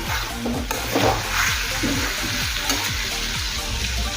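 Spices and vegetables are sautéed for a rohu fish curry with raw banana, papaya and potato. A dense, close frying sizzle runs under rapid, rhythmic scraping and knocking of a spatula against the pan, with no talking.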